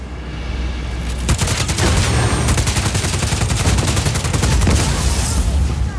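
Sustained automatic gunfire blasting a generator in the Just Cause 4 video game, a loud rapid rattle of shots lasting several seconds after a brief quieter lead-in, with faint talk in the background.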